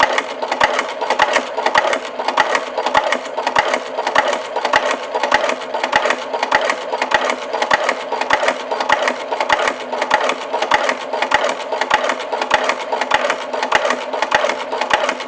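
A sewing machine stitches the straight edge of a lanyard cell phone case made with alligator hide, a close, even, rapid clatter repeating without a break.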